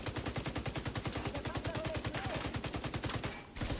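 Rapid automatic gunfire from The Division 2 rattles out in one sustained, evenly paced burst for over three seconds. It cuts briefly near the end and resumes.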